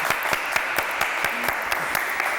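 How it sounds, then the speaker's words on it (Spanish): Sparse applause from an audience after a poetry reading in a televised conversation. Separate, fairly loud claps fall in an uneven rhythm over a soft background. "Aplaudimos, ¿no?"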